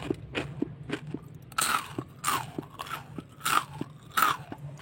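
A crunchy fried snack, a homemade Indonesian schoolchildren's treat, is bitten and chewed up close, giving several loud, crisp crunches in an uneven rhythm with no talking.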